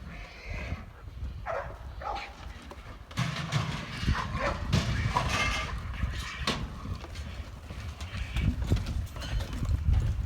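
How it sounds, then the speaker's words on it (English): Hooves clatter and horses snort as dogs attack them, with dogs barking now and then and a steady background rumble, fairly distant and chaotic. "Dogs are attacking the freaking horses."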